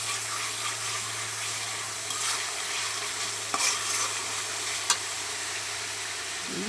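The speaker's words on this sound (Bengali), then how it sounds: "মশলাটা আগে কষাই নিতেছি" A spice paste sautés in a pan with a soft, continuous sizzle, while a spoon stirs it now and then with a couple of clearer knocks, heard up close with no voices.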